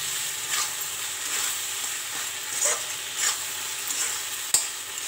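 Fried potatoes stirred into a fish curry in a pan, with a soft, steady sizzle and scraping strokes of a spoon at a few regular points, one sharper clink near the end, fairly quiet and without any talking.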